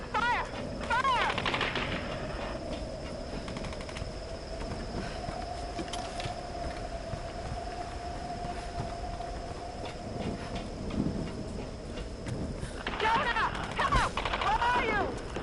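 Gunfire in the video game Tomb Raider, with bursts of rapid shots over a steady droning game background and a faint shouting voice at times.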